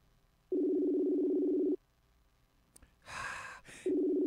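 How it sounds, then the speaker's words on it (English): Telephone ringing tone on an outgoing call to a cell phone during a radio show: a steady buzzing tone about a second long, a pause with breathy noise, then the tone starting again. "Ken, I'm going to call your cell phone"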